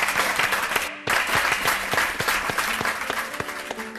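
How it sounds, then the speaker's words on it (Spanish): A television studio audience applauds a special guest on a Spanish talk show, loud dense clapping with a brief cut near the start, then continuing steadily over a light musical backing. "Un aplauso para ella."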